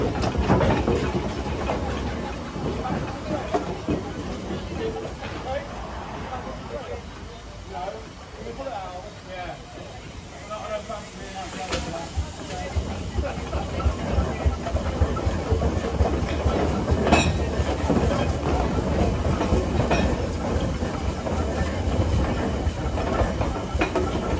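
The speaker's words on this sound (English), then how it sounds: "it is a steam engine rather than an internal combustion engine" Steady, hissing and chuffing steam-engine rumble with rhythmic rail clatter, continuous and fairly loud, with people talking over it.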